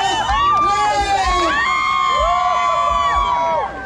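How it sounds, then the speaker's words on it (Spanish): A loud crowd yelling and cheering together on a count at a Caballo Dorado show in Stockton, California, many voices overlapping in a sustained shout. "El grito fuerte."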